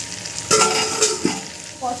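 Pointed gourd and prawns sauté in a pan with a close sizzle, with a sharp stirring clatter and scrape partway through and a hiss near the end. No voices.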